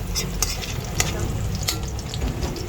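Garlic sizzling in hot oil during stir-frying, a steady close crackle broken by a few sharp scraping strokes of a utensil in the pan.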